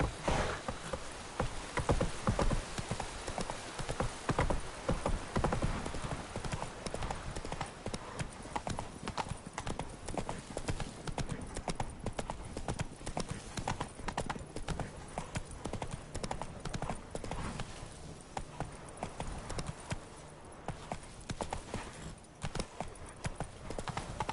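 Hooves of the horse Roach clip-clop steadily through the game The Witcher 3: Wild Hunt, Blood and Wine, a continuous close trotting rhythm with faint insect buzz in the background.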